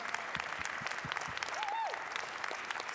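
Audience applause at a Martin Luther King Jr. celebration for the initiative's leader, moderate scattered clapping from a room with a brief whistle or voice rising over it, people murmuring underneath.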